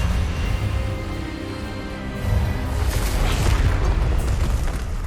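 A spell blast from the Hogwarts Legacy video game hits as a loud, sustained booming burst, swelling midway into a crackling, roaring rumble that fills the whole clip with no voices.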